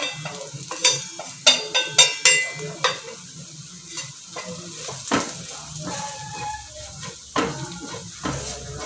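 Onions and spice powder fry in oil for a chicken curry, a soft sizzle under repeated spoon scrapes and stirring knocks against the pan, close and uneven in rhythm.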